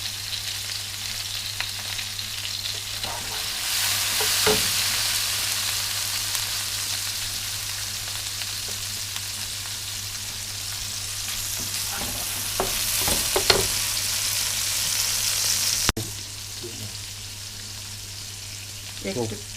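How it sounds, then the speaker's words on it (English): Chinese-style chicken stir-fried rice sizzling in a pan with green chili, with a steady broad frying hiss and occasional louder stirring scrapes and clinks throughout. "making Chinese stir-fried rice with chicken"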